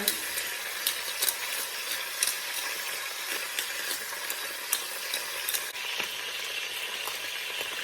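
Pieces of oxtail seasoned with salt and pepper browning in a hot pot, giving a steady crackling sizzle with occasional sharper pops and clinks as the meat is stirred.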